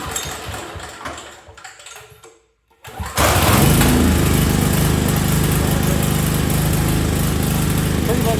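A tri-fuel portable generator converted to propane cranks and fires back up, first sputtering, then after a brief silence roaring into a loud, steady engine drone that runs close and continuous.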